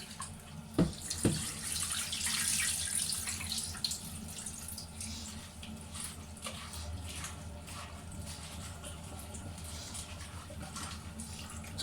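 Water from a kitchen tap runs steadily into a sink while food is washed, with a couple of sharp knocks early on and ongoing splashing that rises, then settles into a quieter constant stream.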